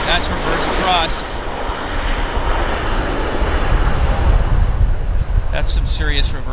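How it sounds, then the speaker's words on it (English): A landing jet at Vancouver Airport roars with reverse thrust, a loud sustained rush that swells toward the middle and stays strong, with people talking over it near the start and end. "That's some serious reverse thrust"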